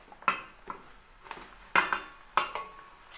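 Spoon stirring dried chilies, garlic, green chilies, onion, curry leaves and ginger paste in a hot pan for quail curry, with several sharp metallic scrapes and clinks over a soft sizzle, close and without talk.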